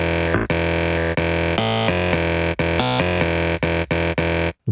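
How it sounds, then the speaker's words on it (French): Warped, distorted guitar sample played back as a sampler instrument, rhythmic chopped sustained notes with effects, loud and alone, with brief gaps between phrases. "Et désormais, nous pouvons jouer avec cet échantillon comme si c'était un nouvel instrument."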